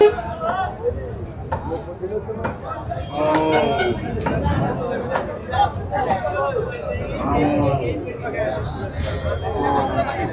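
Cattle at a crowded border cattle market in Chattogram, with a cow mooing now and then amid loud crowd chatter and bargaining voices throughout.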